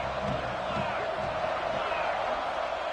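A stadium crowd at a home football game roars as a steady, dense wash of cheering and shouting that fills the whole stretch, with a commentator's voice faintly mixed in.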